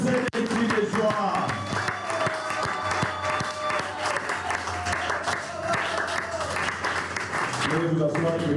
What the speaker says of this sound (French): Acclamez pour ce cri de joie.